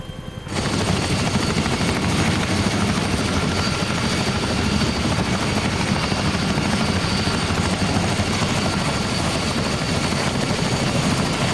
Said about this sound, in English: So currently we've got a UH-60 coming in to land on the one to the north